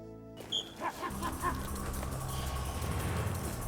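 A hunting dog gives a few short yips and whimpers early on, then a steady outdoor rumble and wind noise take over.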